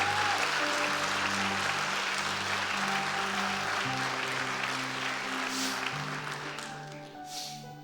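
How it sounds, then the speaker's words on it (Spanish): A church congregation gives a strong round of applause during a service. Sustained keyboard chords shift underneath, and the clapping fades slightly near the end. "Denle un fuerte aplauso al Señor"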